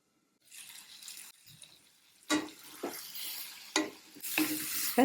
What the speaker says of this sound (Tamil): ஒரு நிமிஷத்தில் ஒரு தடவை கிளறி விடுவோம்.